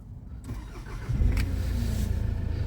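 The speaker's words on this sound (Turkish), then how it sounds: "Fren ve buton yaparsak araç çalışıyor." 2006 Kia Sorento engine started with a push button and brake, a brief starter crank followed by the engine catching and settling into a steady idle, close by with no talk.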